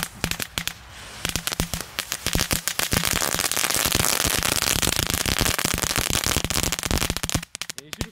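Rapid crackling category 1 firecrackers pop and snap in a dense, continuous burst, building from scattered cracks to a loud sustained barrage before fading.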